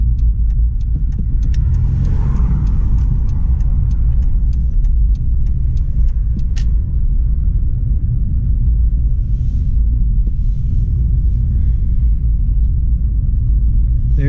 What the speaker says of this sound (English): here we are in the Jeep. Heading to Copart.